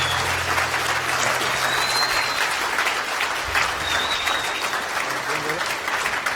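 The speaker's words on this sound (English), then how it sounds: "A big round of applause." Audience gives a big round of applause at a political event honoring a guest, dense sustained clapping filling the room with faint voices and a cheer or two underneath.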